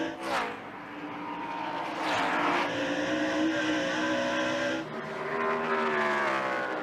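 NASCAR stock cars roar through the final lap at Rockingham, a dense, loud engine drone with shifting pitch as cars pass close by, swelling and dipping continuously for several seconds.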